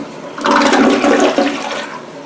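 A Kohler Cimarron toilet from around 2005 flushes in a house bathroom. It gives a loud, abrupt rush and swirl of water that drains away over about two seconds, with no one talking.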